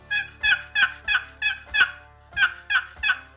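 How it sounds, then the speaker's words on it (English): A box turkey call worked in a quick rhythmic series of eight raspy yelps, clear and close, with short pauses between. "this is what we call a short box"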